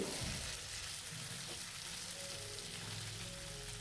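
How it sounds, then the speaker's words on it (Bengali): Steady sizzling of spices and potatoes frying in hot oil, with occasional soft stirring scrapes; no voices. "মশলাটাকে আমি এখানে দেখো তেলের মধ্যে দিয়ে একটু কষিয়ে নেব এবং আলুটাও সাথে সাথে ভাজা হয়ে যাবে"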